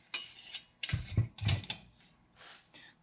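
Metal vent nut being unscrewed from a Coleman 200A lantern, a few close scraping, grinding twists and clicks in short irregular bursts, with no talk.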